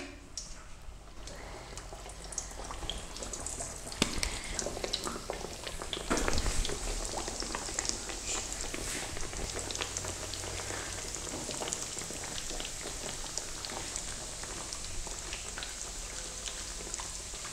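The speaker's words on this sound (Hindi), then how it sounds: "ऑयल हमने यहाँ पर अच्छी तरह से गर्म कर लिया है। अब हम इसमें डोनट्स डाल लेंगे।" Donuts deep frying in well-heated oil, a steady close crackling sizzle that runs throughout with a few louder bursts, and no one speaking.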